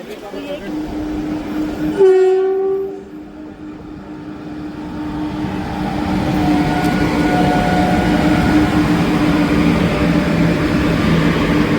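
Deccan Express passenger train sounds a loud horn blast of about a second near the start, then its running rumble builds and carries steadily to the end, with faint voices in the background.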